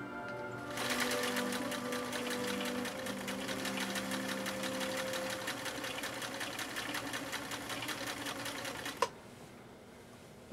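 A rare 1.0 amp Viking Husqvarna Class 8E rotary sewing machine runs at regular speed, a rapid, even mechanical chatter that starts after a second, holds steady for about eight seconds, then stops with a clunk.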